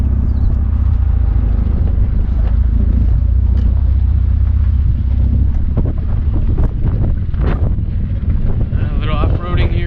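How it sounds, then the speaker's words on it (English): Steady low rumble and rushing wind noise from a Mitsubishi Eclipse GTS rolling downhill in neutral with a bad manual transmission, continuous and fairly loud throughout with a few faint knocks. "when I throw the car in neutral, it sounds like the car has no issues"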